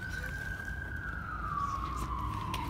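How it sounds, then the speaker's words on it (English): A steady wailing siren drifts slowly downward in pitch, heard at a distance over constant background rumble. "so all sirens are right there"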